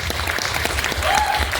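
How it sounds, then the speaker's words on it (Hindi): A live-show audience claps together in a steady, close, fairly loud burst of applause, with a faint voice sounding briefly through the clapping. "सबसे पहले तो मैं चाहूँगी कि खुशी के लिए आप लोग तालियां बजाएं"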